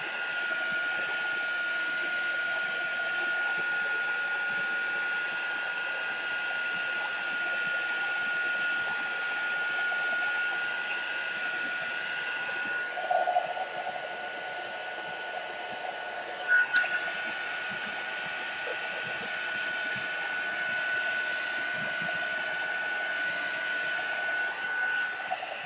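A hair dryer blows steadily on watercolour paint, a continuous close whooshing hum that holds for the full length with only slight shifts as it is moved.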